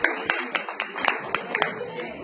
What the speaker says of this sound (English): Can you give a round of applause for this guy?